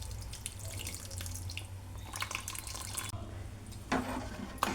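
Tamarind juice poured into a cooking pot for lentil stew, a soft continuous liquid pour with light splashing, closer and brighter toward the end.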